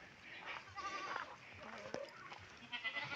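Goats bleating on a smallholding as their fodder is brought to them, a few wavering calls heard over a busy outdoor background with faint voices nearby.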